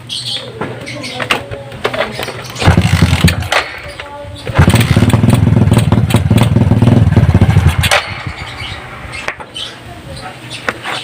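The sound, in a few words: motorcycle engine starting and running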